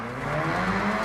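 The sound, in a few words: Mazda RX-7 car driving in a racing video game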